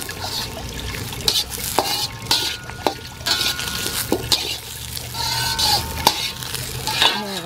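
Garlic and onion fry in a rusty wok being seasoned over a wood fire outdoors, a continuous sizzle broken by repeated sharp scrapes and clanks of a utensil stirring against the metal, close and fairly loud.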